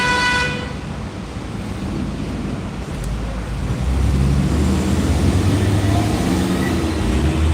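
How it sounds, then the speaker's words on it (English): A car horn sounds briefly as a traffic light turns green in Philadelphia, over steady low traffic rumble, with engine noise building in the background. "the light turned green and he fucking honked like immediately"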